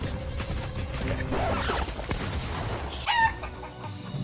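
A chicken in the Fortnite video game clucks and squawks among mechanical clanks and creaks, the bird calls rising near the end with a brief sharp cry over a busy game soundscape.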